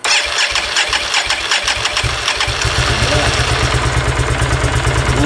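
A wrecked Can-Am Outlander ATV engine cranks and catches, then settles into a loud, close, uneven rumbling idle with a steady pulsing beat.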